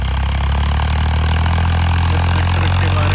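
A tractor engine runs steadily and loudly at close range, a continuous low rumbling drone with a faint mechanical chatter, heard alone with no talking.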